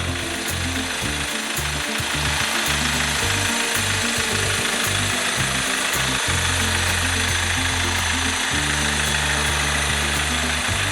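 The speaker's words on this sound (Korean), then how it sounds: "균일하게 엔진 소리가 나야 되는 게 제일 중요해요" The diesel engine of a Hyundai Starex 5-seat van runs at a steady idle, with an even rhythmic knock and a constant low hum close up, and no talk over it.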